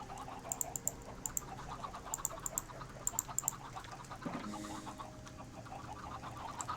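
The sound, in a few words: chickens clucking in the video game Minecraft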